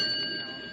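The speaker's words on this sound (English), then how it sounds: "what's the bell for?" A small hand bell rings with a bright, sustained metallic tone that slowly fades, struck once to let people know of an arrival; no voices over it.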